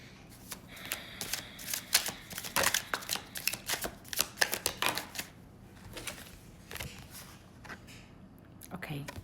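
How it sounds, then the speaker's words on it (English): Thought Tarot cards being shuffled by hand, a run of crisp riffling and flicking bursts that thin out toward the end, close and fairly quiet, with some talking underneath. "I'm gonna pull one last card from the Thought Tarot"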